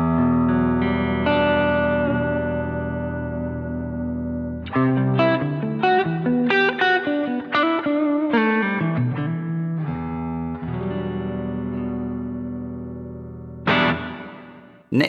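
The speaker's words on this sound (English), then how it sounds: "So let's put on a compressor by switching on pedal number 1." An electric guitar runs through the compressor effect of a Boss ME-90 multi-effects unit: a long sustained chord rings out, then a run of evenly squeezed picked notes and chords follows, ending in a final strum, close and with no talking.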